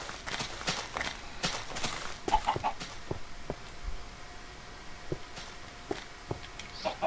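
Chickens in the Minecraft modpack TFC Modcraft: scattered clucks and short fowl calls with soft footstep taps, moderately quiet over a steady ambient background hum, without talk.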